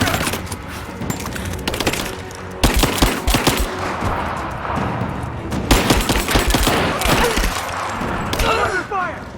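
Rapid gunfire in the video game Rise of the Tomb Raider, loud bursts and machine-gun volleys in dense clusters, with shouted voices over the shooting.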